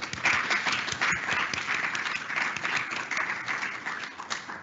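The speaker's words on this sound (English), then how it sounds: "So round of applause, please." Panel audience at a climate services event breaks into sustained applause, a dense, steady wash of many hands clapping at close range from start to finish.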